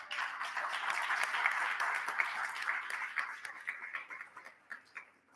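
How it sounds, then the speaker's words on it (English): Audience applause for students at a multicultural and tourism heritage summit, a steady wash of clapping that gradually thins out and fades toward the end. "if we could give every student a round of applause"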